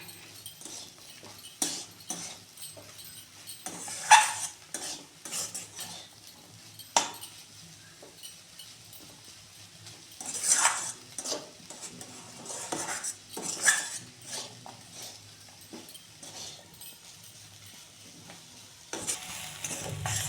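Grated carrot fries in a pan for halwa, with a spoon scraping and stirring in repeated bursts over a faint, steady sizzle, and no talk.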